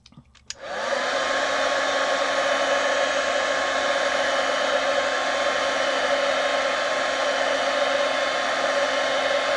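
Heat gun used for crafting with distress oxide inks switches on after a brief click and then runs as a steady, loud whirring blower hum with a fixed pitch, nearby and uninterrupted, no talking.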